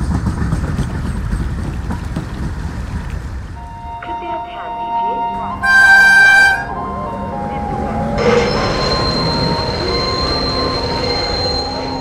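In a Bangla cartoon, a train rumbles along rails, then brakes and wheels squeal and a bright whistle-like tone cuts through before a steady hiss settles in, nearby and fairly loud.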